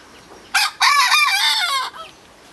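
A hen crows like a rooster in a hen house, giving one loud, close, drawn-out crow after a short opening note, with quiet around it.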